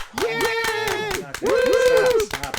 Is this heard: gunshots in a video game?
no